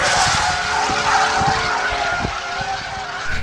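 A McLaren 570S slides around a skid pan in drift mode, with a continuous bright tire squeal layered over the engine drone and a few soft low thumps, loud and close throughout.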